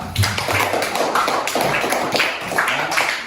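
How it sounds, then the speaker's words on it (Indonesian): A school class applauds a group of students, dense, steady clapping from many hands filling the room at close range, with no voices over it. "beri aplaus untuk kelompok 2"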